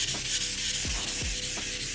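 Steady abrasive rubbing of sandpaper across an oxidized plastic car headlight lens, a continuous close scratchy hiss with a few short low swipes as the pad works around the angles.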